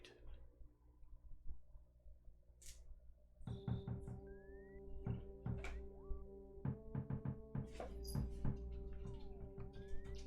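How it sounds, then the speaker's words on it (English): Knocking on a door in the SNES game EarthBound comes as a long, rhythmic, grooving series of knocks set over low game music, steady and close with no voices. "Just one of the best knocks in a video game ever."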